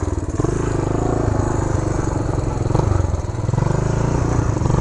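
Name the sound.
1975 Honda Redline Powroll 412cc motorcycle riding in snow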